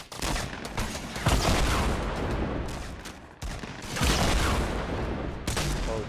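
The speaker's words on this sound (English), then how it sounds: "I just got shot from somewhere" Rapid bursts of gunfire from the Fortnite Battle Royale 50v50 mode crackle almost nonstop, with heavier booming volleys near the start, middle and end and a brief lull just before the midpoint.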